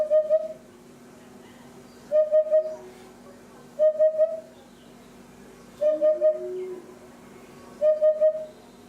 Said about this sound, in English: Hoopoe song, very much like a cuckoo.